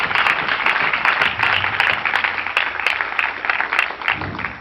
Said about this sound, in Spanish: Bríndale un fuerte aplauso al Señor.